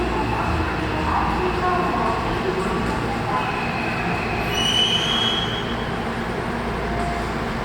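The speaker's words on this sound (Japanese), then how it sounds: "4番乗り場到着の電車、この駅までです。" A terminating train pulls into platform 4 at Kosoku-Kobe station in Kobe, with a steady low rumble of rolling cars and a thin, rising wheel squeal as it brakes. Platform announcements carry on faintly underneath.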